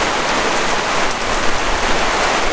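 Heavy rain pours down steadily outdoors during a seat install on a Mk4 VW Golf GTI, a dense continuous hiss of drops hitting surfaces with no let-up and no voices.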